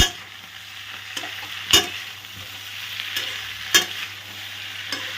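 Thai sweet chilli sauce being stirred into frying chilli fish, a steady soft sizzle with a few louder scrapes and clacks of the spoon against the pan, close and without talk.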